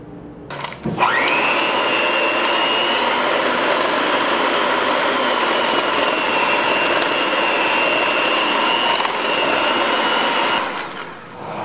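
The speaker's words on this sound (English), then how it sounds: "We're going to start with blending half a cup of butter with 2 cups of sugar and beat it up until it's all nice and creamy" Electric mixer beating half a cup of butter with two cups of sugar until creamy, running as a loud, steady whir for about ten seconds after it starts up, with no talking.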